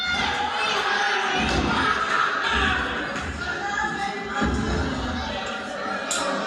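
A wrestling crowd at a PWF pro wrestling show roars and cheers steadily throughout, a dense wash of voices with some shouts and occasional thuds rising out of it.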